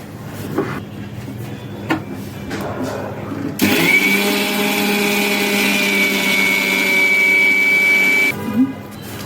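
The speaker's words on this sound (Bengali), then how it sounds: "এখন এটাকে আমরা ব্লেন্ড করে নিব।" An electric blender grinds one and a half cups of sugar, starting after a few clicks and handling noises with a loud, steady high-pitched motor whine for nearly five seconds before cutting off abruptly.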